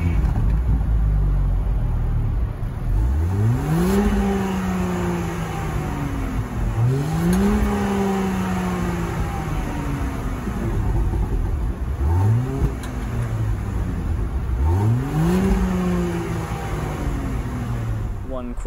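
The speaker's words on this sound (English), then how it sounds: "I'll rev the car a little bit as well" A 2020 Land Rover Range Rover HSE idles, then is revved four times at spaced intervals, each rev rising sharply in pitch and falling back to a low rumble, close and clear.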